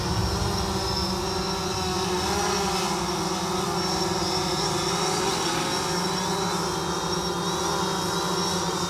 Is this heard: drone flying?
yes